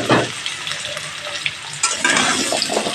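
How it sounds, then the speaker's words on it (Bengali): Potatoes frying in hot mustard oil, starting with a sharp burst as they hit the pan, then a dense, loud sizzle with stirring and scraping. "তেলটা গরম হয়ে গেছে, আলুগুলো ভেজে নেব"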